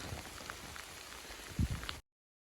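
Steady rain patter fills the clip, a soft even hiss with scattered drops, and a brief low thump near the end before it cuts off.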